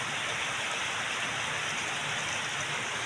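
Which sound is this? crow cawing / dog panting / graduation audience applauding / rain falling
rain falling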